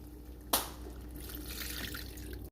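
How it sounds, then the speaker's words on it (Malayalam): Water is poured into a pan of Kerala-style chicken curry made with fried coconut paste: a sharp splash at the start, then a steady close pour running for about two seconds, with no talk. "ഇനി നമുക്ക് ആവശ്യമുള്ള വെള്ളം ചേർത്ത് കൊടുക്കാം."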